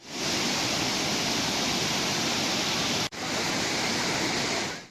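Tortum Waterfall in Uzundere, Erzurum, swollen with spring snowmelt and rain, gives a loud, steady broadband roar of gushing water that briefly cuts out once before resuming.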